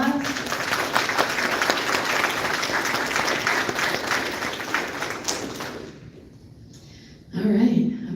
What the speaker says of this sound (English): please just show your gratitude by offering a round of applause.